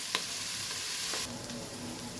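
Ingredients for shahi paneer pulao sizzle and fry in a pan while being stirred, a steady close hiss with a couple of brief scraping touches, no talk.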